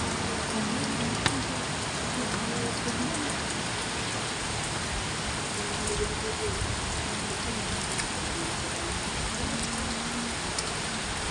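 Heavy rain pours down steadily in the Philippines, a dense, constant hiss of falling water that never lets up, with no voices over it.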